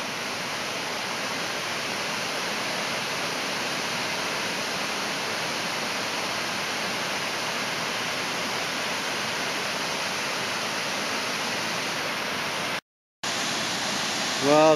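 A waterfall on a river in Aveyron roars as a constant, loud, broad rush of water close by, unbroken except for one brief cut near the end.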